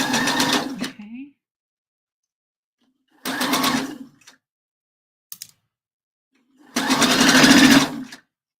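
A sewing machine runs straight 1/4-inch stitching around a bra cup in three separate bursts, the last longest and loudest, with quiet gaps between and a brief tick near the middle.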